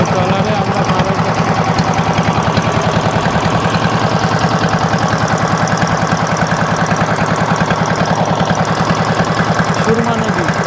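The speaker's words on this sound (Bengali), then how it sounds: "ট্রলারে আমরা পার হইতেছি।" Engine of a river trawler crossing the Surma river near Dawra Bazar in Sylhet, a loud steady chugging idle with rapid regular pulses throughout, voices talking faintly over it.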